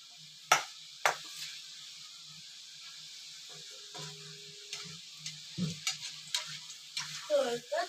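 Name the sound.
Malvani khaja dough frying in oil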